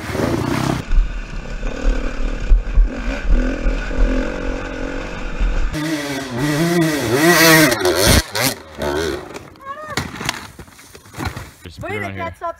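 An enduro motorcycle engine idles roughly, then revs hard in several rising and falling bursts, loud and close, with a buzzy, aggressive tone and a person speaking briefly near the start.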